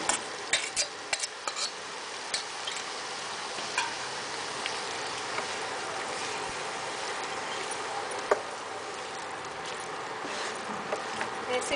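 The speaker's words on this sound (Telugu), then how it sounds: "ముందుగా మనం కలిపి ఉంచుకున్న చికెన్ను వేగిన ఉల్లిపాయల్లో వేయాలి." Chicken tossed into fried onions for a Telugu chicken curry crackles in the pan with a steady sizzle. Clicks and scrapes of stirring come fast at first, then turn sparse.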